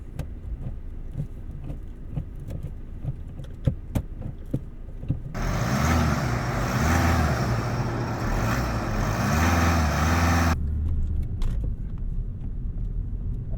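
A manual MK6 Volkswagen Golf TDI diesel moves off with light ticking, then a steady, loud engine and road rumble for several seconds before it drops back to a quieter cabin hum.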